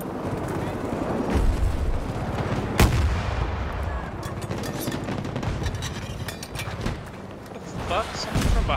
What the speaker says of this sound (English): Someone from behind me is shooting me?